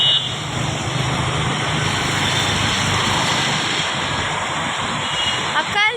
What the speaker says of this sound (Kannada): ಅಕ್ಕ ಅಲ್ಲಿ ಜೆಟ್ ನೋಡಿ.